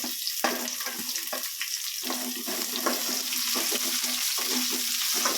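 Crushed garlic and onion fry in a pan with an irregular sizzle and hiss, broken by scraping stirs and clatter, growing denser and steadier toward the end.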